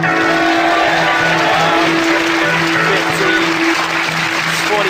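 Studio audience on a British comedy chat show applauds in steady, dense clapping that holds at full strength throughout, with faint tonal hum beneath.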